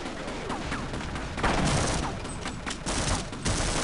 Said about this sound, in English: there's a gun on the tank that is constantly shooting at you